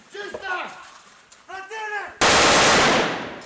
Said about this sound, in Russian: Стрельба с разных дистанций на время или по движущимся мишеням.